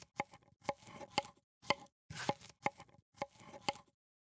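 Steady series of close knife chops slicing through courgette on a board, about eight crisp, evenly spaced cuts in a clean, quiet setting.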